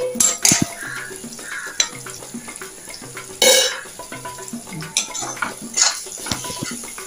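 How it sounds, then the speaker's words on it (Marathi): Onions with turmeric and red chili stir-fry for egg bhurji, with repeated spatula scrapes and clinks against the pan over a soft sizzle, close and fairly loud. "आता हे सर्व कांद्याबरोबर चांगलं परतवून मिक्स करून घेऊया"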